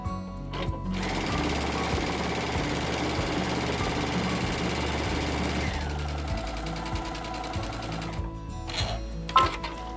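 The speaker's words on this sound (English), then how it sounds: "I'm going to lower this presser foot here and I'm just going to sew." Sewing machine stitching through two fabric layers with batting between, a steady rapid mechanical whir with dense needle strokes that shifts tone partway through, then slows into a few separate clicks near the end; no talking.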